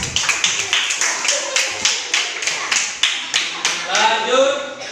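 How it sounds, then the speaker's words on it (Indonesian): A small group claps for a classroom group presentation, a series of distinct, fairly close claps in uneven rhythm over about four seconds before settling into a brief burst of voices. "tepuk tangan untuk kelompok 1"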